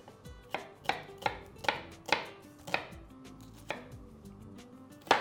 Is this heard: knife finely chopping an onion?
yes